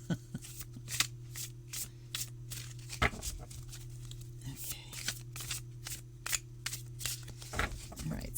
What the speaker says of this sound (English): now we're going to cut shuffle